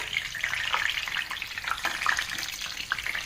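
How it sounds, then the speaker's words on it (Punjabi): Two large halved tomatoes frying face-down in leftover oil after eggplant, a dense, continuous crackling sizzle with small spitting pops, close and steady throughout. "ਹੁਣ ਬਚੇ ਹੋਏ ਤੇਲ ਵਿੱਚ ਦੋ ਵੱਡੇ ਸਾਈਜ਼ ਦੇ ਟਮਾਟਰਾਂ ਨੂੰ ਬਚਾ ਲਿਓ ਕੱਟ ਕੇ ਉਲਟਾ ਕਰਕੇ ਰੱਖਾਂਗੇ ਤੇ ਇਹਨਾਂ ਨੂੰ ਵੀ ਬੈਂਗਣਾ ਦੀ ਤਰ੍ਹਾਂ ਆਪਾਂ ਫਰਾਈ ਕਰ ਲਵਾਂਗੇ"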